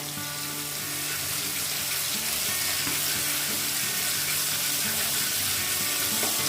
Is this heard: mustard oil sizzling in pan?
yes